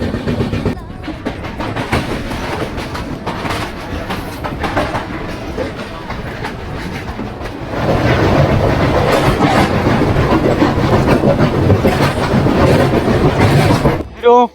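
Heard from aboard the East Coast Express (18045, Shalimar to Hyderabad) at about 80 km/h, a loud continuous rail roar with rhythmic clickety-clack of wheels over joints grows louder midway, with no talk.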